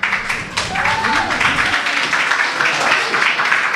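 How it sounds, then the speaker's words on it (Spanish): Audience applause for young performers at a Mother's Day celebration in Japan, a steady wash of clapping lasting a few seconds with a faint voice or music tone running underneath. "Un fuerte aplauso para los jóvenes, por favor."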